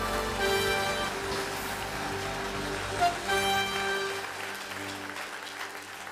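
A church congregation applauds steadily at a sermon, a dense wash of clapping that stays even and full for several seconds, with a faint sustained tone running beneath it and no voices over the top.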